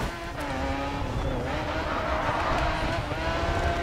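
Koenigsegg race car in the racing video game GRID 2: a loud, high-revving engine whine with shifting pitch and some tire squeal, close and continuous for about four seconds without talk.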